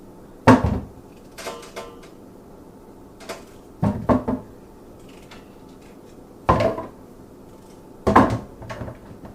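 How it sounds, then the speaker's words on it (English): A knife chops medium-sized potatoes on a kitchen cutting board: about five separate, close, sharp chopping knocks, irregularly spaced, with quiet pauses between and no talking. "this size of potato, you guys, is not that big. I like to use these sizes, and I just chop them."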